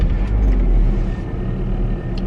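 A camper van's engine starts and settles into a steady, close, low idle rumble that lasts throughout, with no talking.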